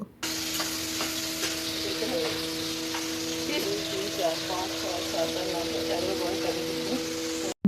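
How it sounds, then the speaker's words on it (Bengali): Prawns sizzle and crackle steadily in hot oil over a low gas flame, a close, continuous frying hiss with occasional pops and stirring, while someone talks quietly over it. "চিংড়ি মাছগুলো ভালোভাবে ভাজা হবে ভালোভাবে ভাজা হয়ে এলে তুলে নিতে হবে"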